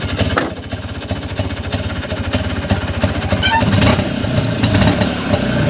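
A jeep engine runs close by, starting up and settling into a rough, loud idle with a steady chugging rumble and occasional clatter throughout.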